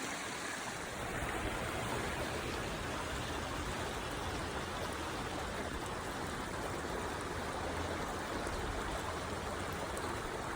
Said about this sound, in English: Little baby brook though.